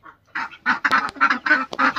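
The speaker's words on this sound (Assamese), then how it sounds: "কিনাৰতে হাঁহৰ মাত শুনিছোঁ কুকুৰা মাত শুনি আছোঁ" Ducks honking and quacking at dawn in a rural village yard, a rapid run of loud, close calls in quick succession with brief gaps, plus a couple of sharp clicks.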